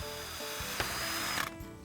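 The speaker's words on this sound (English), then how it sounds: "Then, drive in the screws." A power drill drives screws into an aluminum channel to mount a hinge on a garden arbor, a steady whirring motor with a ratcheting bite near the end, close and fairly loud with no talk.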